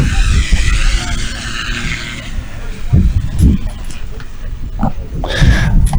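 A Husky STOL aircraft lands with heavy braking at a Sun 'n Fun airshow demo, tires scrubbing and squealing against the ground amid loud engine and crowd noise.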